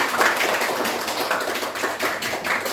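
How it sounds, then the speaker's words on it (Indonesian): Classroom applause for a student group at a primary teacher-training lesson, a steady patter of many hands clapping for nearly three seconds with no voices. "Tepuk tangan buat kelompoknya"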